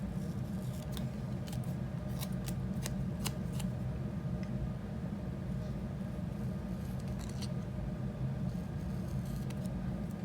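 Scissors snip through paper in a steady series of close, crisp cuts over a constant low background rumble.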